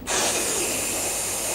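A person imitates the pneumatic hiss of a trolleybus front door, making a sharp, breathy rush of air that starts suddenly and holds steady for about a second and a half, close up.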